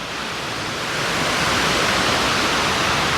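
Water rushing down the spillway of the Lower Dam, a loud, steady, broad roaring wash that swells slightly after the first second and holds, no talking.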